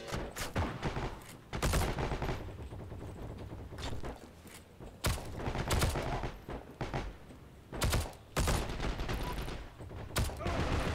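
Gunfire in the online war game Heroes and Generals, with sniper fire on the flank; rapid, loud volleys of shots and bursts crack repeatedly throughout, mixed with distant battle noise and no talking.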